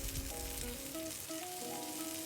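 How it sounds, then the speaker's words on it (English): Steak seared presentation side down in a hot oiled pan for a reverse sear, giving a steady, close sizzle and crackle that runs unbroken under faint background tones. "We want to make sure you hear a sizzle when you hear the steak hit the pan."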